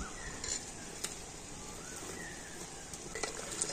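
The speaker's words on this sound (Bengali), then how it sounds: "এবার এটাকে আমি তেলের মধ্যে এভাবে ডুবিয়ে দেব।" A mango batter fritter dropped into hot oil, frying with a steady, soft, broadband sizzle and a few faint clicks of a ladle against the pan.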